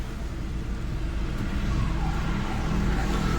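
A learner's car reverses slowly in a straight line during a driving lesson, its steady low engine rumble close and continuous, with no talk.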